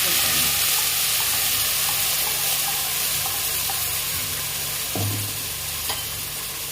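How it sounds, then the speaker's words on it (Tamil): Onion, ginger, garlic, tomato and curry leaves sauté in hot oil for a country chicken kuzhambu, a loud continuous sizzle with scraping stirs and occasional clinks of a utensil against the pan. "நல்லா எண்ணெயிலே நல்லா வணங்கணும் பச்சை வாசம் போகிற வரைக்கும் நல்லா வணக்கிட்டே இருக்கணும்"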